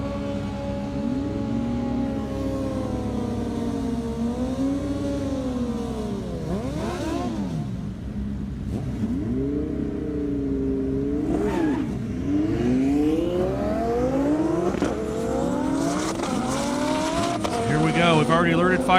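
A race car at full throttle on a half-mile airstrip at a top-speed event, its engine note climbing through repeated upshifts, loud and continuous, with a commentator talking over it.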